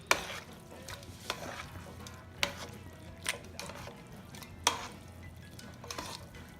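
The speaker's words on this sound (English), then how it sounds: "you're gonna add your cube of butter. And stir until it melts." A cube of butter is stirred into red wine spaghetti sauce in a pan until it melts. A soft sizzle runs under repeated spoon scrapes, and sharp clinks against the pot ring out every second or so.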